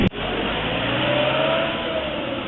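A Honda TMX 125 Alpha motorcycle engine runs with a steady, loud, continuous drone, held close at an even pitch throughout, with no voices.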